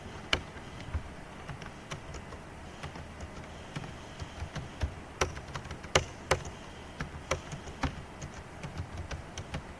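Keys on a computer keyboard clatter in an irregular run of light clicks and taps with a few louder strikes, typed continuously over a quiet background.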